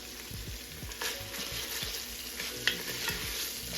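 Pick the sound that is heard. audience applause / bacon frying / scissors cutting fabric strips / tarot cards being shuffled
bacon frying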